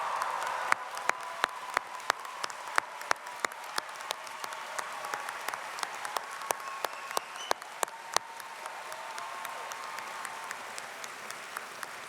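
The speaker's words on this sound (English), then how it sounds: "give a round of applause to the faculty and staff who share in your achievements" A commencement ceremony audience applauding faculty and staff, sustained dense clapping from a large crowd in a hall, steady and moderately loud, with a few sharper individual claps standing out throughout.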